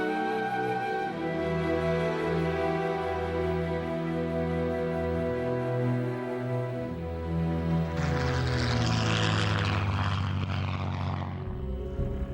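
A Spitfire fighter plane's propeller engine drones steadily, a sustained tonal roar that swells into a louder, rougher pass near the end before fading slightly.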